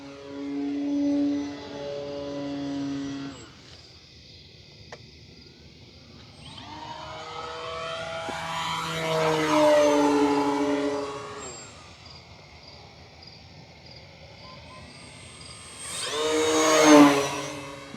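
An FMS Ranger 1800mm RC plane flies a touch and go. Its whining electric motor swells as it passes close, fades to a distant hum, then surges loudly again near the end.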